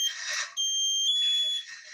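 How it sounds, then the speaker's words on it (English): A firefighter's SCBA breathing apparatus sounding its half-life low air pressure alarm, a loud, piercing high-pitched electronic tone that holds steady, shifts pitch and then fades, with no talking. "That alarm that you just heard is the half-life."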